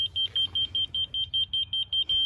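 A laser level receiver at a foundation pour gives a steady string of about a dozen short, evenly spaced high beeps, fairly close, with a low background hum.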